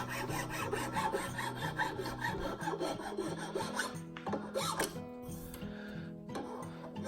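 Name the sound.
fine file rasping wood edges for spiral carving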